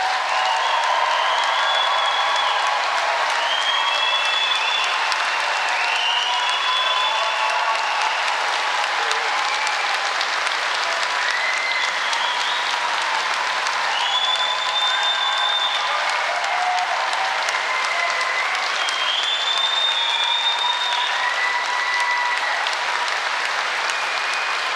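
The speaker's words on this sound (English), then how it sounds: "giving our amazing graduates a huge round of applause" Sustained audience applause at a university degree ceremony in Poole, dense steady clapping filling the hall for the whole stretch, with occasional faint cheers and whoops riding on top.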